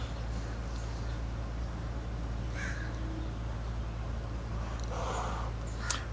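Crows call out a few times, faint and scattered over a steady low outdoor hum, with one sharper caw near the end.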